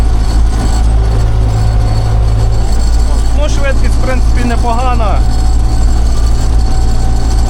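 A loud MTZ tractor engine drones steadily at a constant pitch, close up, ploughing winter ground in fifth gear with front-wheel drive engaged, while someone speaks briefly over it midway.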